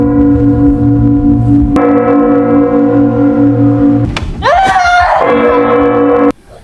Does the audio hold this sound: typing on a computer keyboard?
no